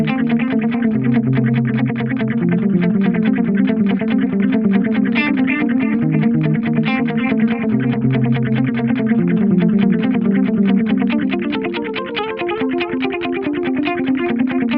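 Electric guitar played through a Fractal FM9 using the Cygnus X-2 model with vibrato modulation, a distorted, chorused tone of steady rhythmic picked chords that swell and waver throughout.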